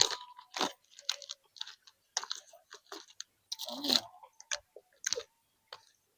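Late-night food being chewed and eaten up close, with crisp crunchy bites and wet mouth clicks coming in irregular bursts and short pauses, no talking.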